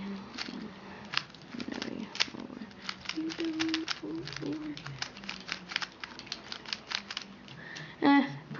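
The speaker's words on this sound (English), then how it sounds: "so some first turns" A new Rubik's cube being turned by hand for its first few twists, giving rapid, light plastic clicks and rattles in quick bursts, close up and moderately loud, with a brief louder clatter near the end.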